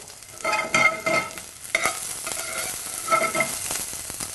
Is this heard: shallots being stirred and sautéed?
yes